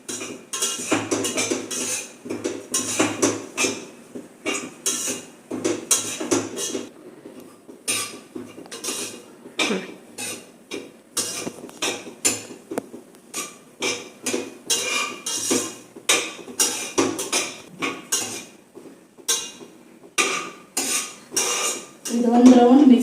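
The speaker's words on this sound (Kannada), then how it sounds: "ರವೆ ಹಿಂಗೆ ಬಣ್ಣ ಚೇಂಜ್ ಆಗೋವರೆಗೂ ಹುರ್ಕೊಳ್ಳೋದು" A metal spoon scrapes and clinks against a pan as semolina is roasted and stirred at home, rhythmic irregular scraping strokes with brief pauses, close and fairly quiet throughout.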